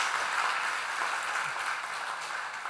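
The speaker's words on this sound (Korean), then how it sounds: "우리 박수로 환영하도록 하겠습니다." A church congregation applauds during a Sunday worship service to welcome a newly registered member, a steady wash of clapping from many hands that stays even and fairly soft for a few seconds.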